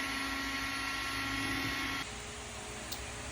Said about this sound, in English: I'll do some spray outs to get a fan pattern that I like